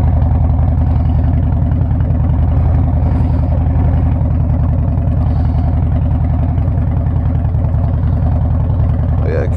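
A Harley-Davidson Dyna Wide Glide motorcycle idles close by with a loud, steady low-pitched rumble and an even rapid pulse throughout, with someone talking over it.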